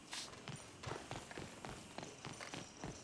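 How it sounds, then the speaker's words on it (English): Horse hooves clip-clop in Red Dead Redemption 2, a steady walking rhythm of quiet, close hoof strikes with no talk over them. "Damn horse."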